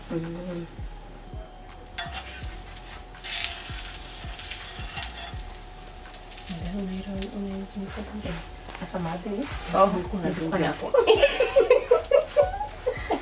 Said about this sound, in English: once one side is cooked, you just oil it, then as the other side is cooking